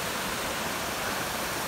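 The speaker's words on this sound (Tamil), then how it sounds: "இங்கே பார்த்தீங்கன்னா அப்படியே அருவி" Kurangani falls in Theni: a waterfall's steady, full-bodied rush of falling water, loud and close, with no break and no voices.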